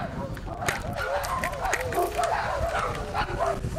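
Several dogs barking and yipping on a Los Angeles street, repeated close, excited barks and whines overlapping continuously, with people talking underneath.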